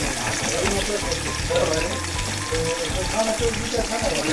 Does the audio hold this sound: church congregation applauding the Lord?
no